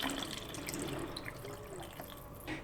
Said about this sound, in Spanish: Voy a llenar este botecito con agua.